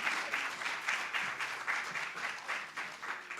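Sustained applause from an audience at a poetry festival event, steady and fairly dense, welcoming a speaker named Wael to the stage, with no talk over it.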